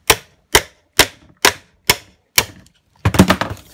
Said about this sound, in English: Just try and chip through that with the chisel.